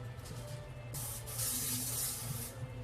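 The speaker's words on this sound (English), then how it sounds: "I got to put a little of spray in the pan" Cooking spray hisses from a can into a pan in two short bursts, the second longer, close and bright over a low kitchen hum.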